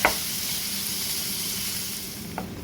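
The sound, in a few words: ground beef browning in a pan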